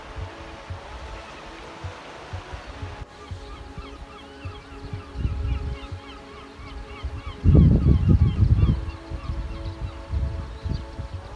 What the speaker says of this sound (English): Migratory birds in the distance.